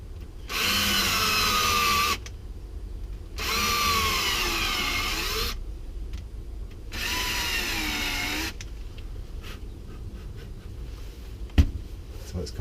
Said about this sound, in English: This is my countersink, so you just want to